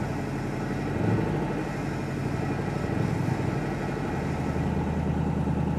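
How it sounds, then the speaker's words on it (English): A 1963 Impala SS with a failing ignition coil, starved for fuel, drones steadily at a low, rough pitch as the throttle is floored and it refuses to rev, loud and continuous throughout. "Got it all the way to the floor and it just won't rev up."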